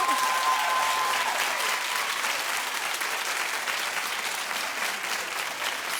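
A studio audience at a daytime talk show claps steadily and loudly, an even wash of many hands sustained throughout with no pause.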